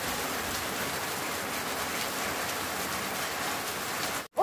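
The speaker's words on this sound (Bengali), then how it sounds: "যা বৃষ্টি করছে এখন আবার ছাতা একটা ভেজাতে হবে" Heavy rain pours steadily in a dense, close hiss, unbroken until a brief cut near the end.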